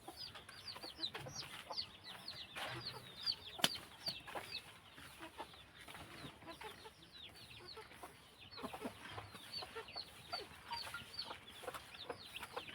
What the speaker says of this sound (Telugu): ఇప్పుడైతే అవి నైట్ టైం ఎక్కడ ఉంటాయో వాటిని చూద్దాం రండి